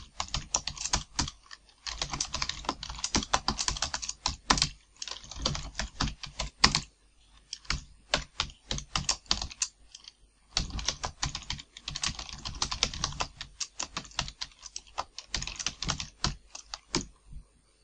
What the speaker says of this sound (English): let's type the program that we had before.